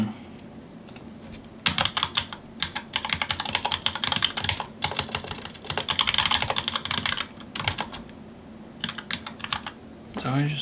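Bursts of quick clicking keystrokes on a computer keyboard come in uneven runs with short pauses between them, close and moderately quiet, as a measurement is noted.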